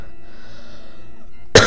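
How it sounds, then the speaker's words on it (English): A single short cough bursts out at the very end, loud and close, after a stretch of soft, steady background music from a Super Mario RPG game. "Cough a little."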